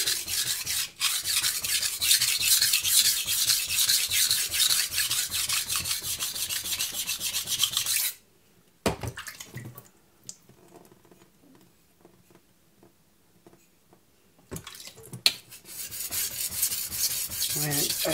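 A knife is stroked back and forth on a Morihei Karasu 9k whetstone, making a steady rasping scrape in quick repeated passes. A pause follows with a few soft taps, then the close, dry scraping starts again.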